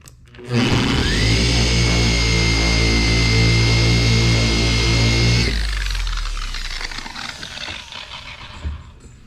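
A machine polisher compounding scratches out of car paint starts with a sudden loud, steady motor hum, runs evenly for about five seconds, then drops away into quieter clatter.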